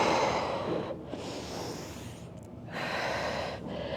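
Heavy breathing during a dumbbell Arnold press: a long forceful exhale, then a sharp inhale and another strong exhale, each breath loud and close, with no talking.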